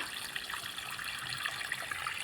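Water is let into vegetable rows one by one to irrigate them, a faint, steady hiss of running flow that continues evenly for the whole moment.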